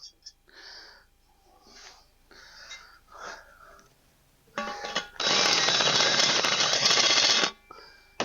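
A well-used countersink bit smooths burr edges on metal in a steady grinding whir of about two and a half seconds, loud and close. Quiet breathy noises come before it.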